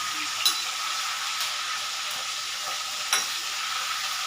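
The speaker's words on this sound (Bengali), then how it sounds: "এগুলো আস্তে আস্তে একটু ভাজা হতে থাকুক" Bhetki fish bones frying gently in a pan, an even close sizzle with a couple of sharp spatula knocks against the pan.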